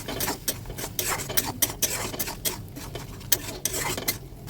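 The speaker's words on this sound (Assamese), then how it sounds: "আৰু এতিয়া মছলাখিনি ভালদৰে ভাজিব লাগিব।" Cumin, coriander and chili powders are fried in a pan while a utensil scrapes and stirs in rhythmic strokes, with a soft sizzle beneath the repeated scraping.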